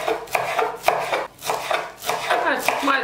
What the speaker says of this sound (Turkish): Ben maydanozu da doğruyorum.